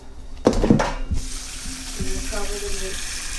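A brief clatter of metal, then water from a tap pours steadily into a pot, the pitch rising gently as it fills.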